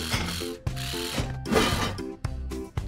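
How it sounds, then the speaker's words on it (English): A cartoon wrench ratcheting while fixing a tow truck robot's hubcap, a series of quick clicking ratchet bursts in a steady rhythm with short pauses between them, close and clear. "Let's fix the hubcap. The wrench is right at the top."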